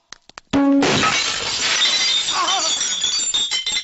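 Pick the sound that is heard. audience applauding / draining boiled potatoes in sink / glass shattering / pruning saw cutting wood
glass shattering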